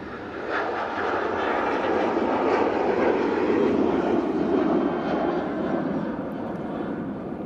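A Boeing 737 jet airliner takes off, roaring steadily with a broad, rumbling engine noise that swells slightly mid-way and holds loud throughout, with no talking.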